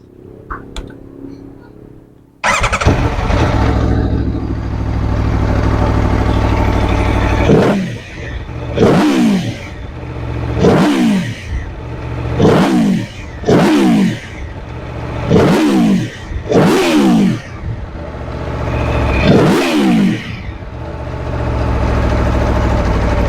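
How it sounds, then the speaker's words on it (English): An Aprilia Tuono V4 Factory motorcycle's 65-degree V4 engine idles loudly, then blips the throttle in a series of sharp revs, each rising and falling back, before settling into a steady rumble. "You want to hear the sound of a V4 65-degree engine?"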